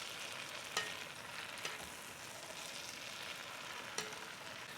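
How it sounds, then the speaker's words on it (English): Mushrooms fry in oil and butter in a pan, a soft, even sizzle with a few distinct stirring taps scattered through, fairly quiet and without speech. "And in go the mushrooms. Give them a stir."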